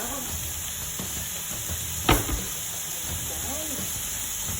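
Bacon frying in a hot pan, a constant bright sizzle with soft stirring clatter and one sharp clank midway; a voice can be heard faintly in the background.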